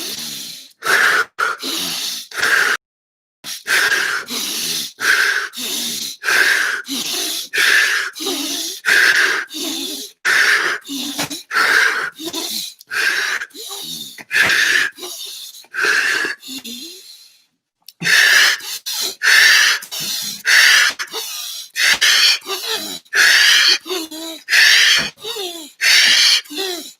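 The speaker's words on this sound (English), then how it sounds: "we're going to go for a session of deep, rapid breathing" Deep, rapid breathing exercise during a guided group session: forceful, rhythmic inhale-exhale bursts repeat close and loud for nearly half a minute, with one brief pause partway through.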